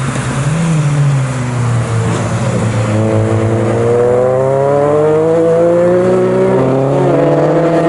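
A Honda race car in a 750MC Roadsports race at Snetterton passes close by at full throttle, its loud engine note climbing and shifting through the gears as other cars drone in the background.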